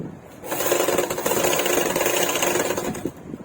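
A sewing machine stitching a blouse runs in one sustained burst, a loud rapid mechanical whirring and clatter that starts abruptly, holds steady for about two and a half seconds, then stops.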